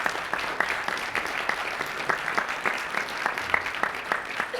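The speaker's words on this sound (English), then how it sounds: "Can we give them a round of applause for their new business?" Steady audience applause fills a hall during a mayor's State of the City address, many hands clapping at an even density for several seconds with no speech over it.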